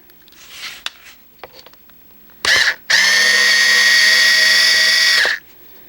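A power drill backs screws out of a circuit board cover: a short whir, then a loud, steady high-pitched spin lasting about two and a half seconds before it stops, heard up close after faint handling clicks.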